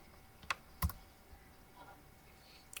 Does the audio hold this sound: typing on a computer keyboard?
yes